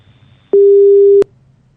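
A phone line gives a single steady electronic tone after a call is cut off. The beep lasts about two thirds of a second, is loud and clear, and stands alone over faint background hiss.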